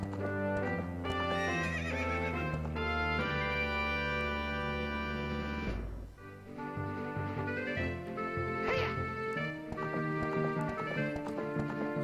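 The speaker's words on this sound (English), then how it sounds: "I got a horse!" In a Zelda video game, a horse neighs and its hooves clip-clop at a gallop over loud game music that plays the whole time.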